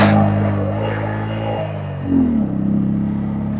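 An off-road vehicle's engine labors in first gear up a rough mountain road in Arunachal Pradesh, a steady low drone that swells and climbs in pitch as it pulls, close and continuous with no talk.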